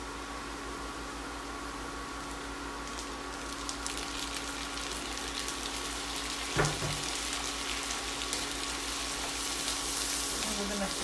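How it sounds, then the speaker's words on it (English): Green peas and onion frying together in a pan give a steady, even sizzle throughout, with a brief clink of stirring partway through. "gonna put green peas on top of the onion and fry together"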